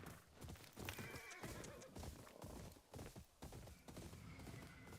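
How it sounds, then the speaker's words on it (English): A horse in the video game Ghost of Yotei whinnies loudly, its neighs mixed with clip-clopping hooves and scattered in-game noise, close and prominent for several seconds. "Horse!"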